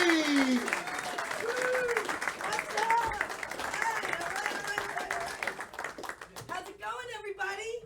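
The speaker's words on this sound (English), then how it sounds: "Start clapping right now" An audience at a comedy show claps and applauds steadily, a loud wash of many hands that continues under a host's voice and a performer starting to speak.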